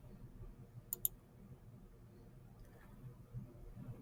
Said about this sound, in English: I click on HD 360 render